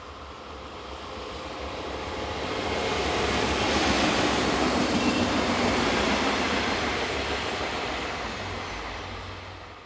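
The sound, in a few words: train passing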